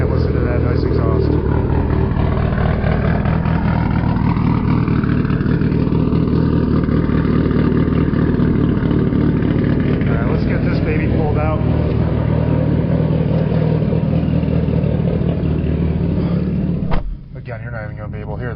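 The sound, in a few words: Lexus IS500 exhaust idling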